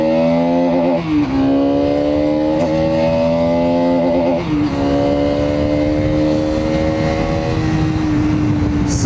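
Bajaj Pulsar NS200 motorcycle accelerating hard in second gear, a loud steady engine drone close to the rider whose pitch climbs and then drops slightly at each gear change, with no speech over it.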